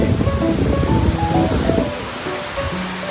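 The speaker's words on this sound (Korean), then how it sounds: "여러분 바람이 엄청 많이 부네요" Strong gusty wind blowing across a mountain trail on Seoraksan toward Ulsanbawi, a loud broadband rush that roars for two seconds and then eases to a steadier, softer blow.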